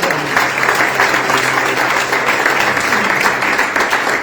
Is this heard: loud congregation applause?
yes